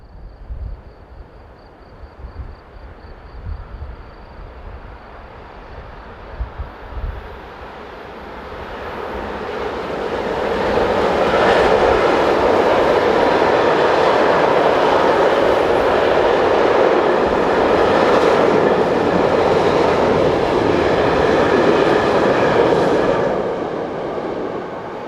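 BLS Class 465 electric locomotive number 015 hauling a northbound container train, first faint and distant, then swelling into a loud, steady rolling roar of wagons that runs on before easing near the end.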